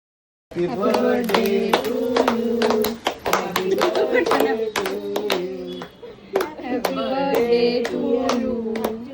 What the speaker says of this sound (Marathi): स्वतःच्याच बर्थडेला स्वतःच टाळ्या वाजवत होती